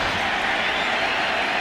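A baseball stadium crowd at an NLCS playoff game between the Mets and Cardinals cheers in a broad, steady roar, distant and continuous, with no distinct claps.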